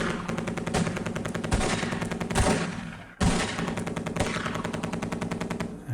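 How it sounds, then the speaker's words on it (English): A tank shooting in a PC video game on a Compaq 486 PC, heard as continuous rapid machine-gun-like rattling with heavier thumps mixed in, loud and steady with a brief break partway through. "Okay, the tank is shooting."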